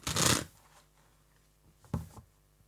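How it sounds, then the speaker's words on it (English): Tarot cards are shuffled by hand in two quick bursts, a longer riffle followed by a shorter one, close and crisp with quiet between them. "Let's do one more shuffle."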